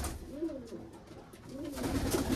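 Tumbler pigeons coo softly inside a coop, two low rolling coos a second apart against faint background noise, with nobody talking.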